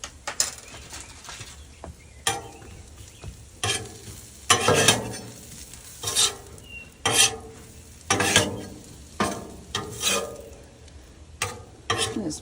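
Smash burgers with butter sizzling on a Blackstone griddle as a spatula scrapes and stirs them in sharp, irregular strokes over a steady background fry, with no talking.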